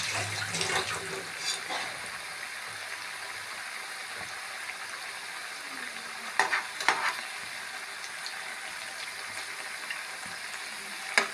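Jackfruit fritters bubbling in hot oil with a continuous soft sizzle, broken by occasional clinks and stirring scrapes, fairly faint and steady.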